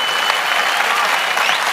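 An audience clapping in church, dense, loud and steady applause from many hands throughout, with no voices standing out.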